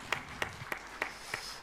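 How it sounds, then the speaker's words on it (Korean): A church congregation at a Wednesday worship service claps together in a slow, even rhythm: five sharp, faint claps spaced about a third of a second apart, with no voices over them. "우리 박수로 한번 축복하겠습니다"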